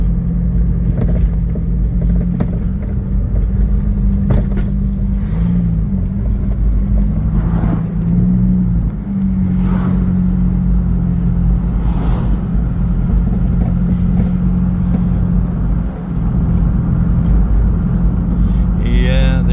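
Steady low engine and road rumble inside a moving car in traffic, loud and continuous throughout with a few faint clicks and shifts above it.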